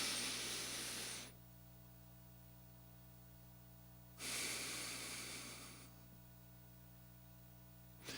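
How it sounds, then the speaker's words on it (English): Box breathing exercise for lung capacity: a long audible breath in for about a second, a quiet hold, then a slower breath out, all over a steady low hum. "So I did 4 breathe in, 4 hold, 4 exhale, 4 hold."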